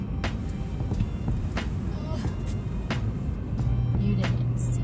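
Steady road rumble and engine drone from inside a moving car on an errand run, continuous throughout with faint clicks and a voice briefly speaking.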